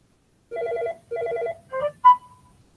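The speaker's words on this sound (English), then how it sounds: "So it's going to send me a text message." A phone plays a short electronic notification tone for an incoming text message, two identical buzzy beeping bursts followed by a quick rising chime and a single clear ping that fades out, loud and alone in silence.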